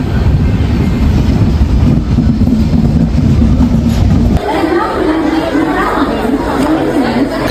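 Dense crowd chatter fills a railway station platform just after passengers step off a train, a loud continuous din over low rumbling that shifts in character partway through.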